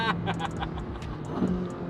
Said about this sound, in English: Oh yeah, this sounds good